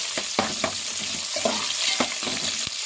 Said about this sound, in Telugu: ఒకసారి కలుపుకుందామండి. కొంచెం గోల్డెన్ కలర్ రాగానే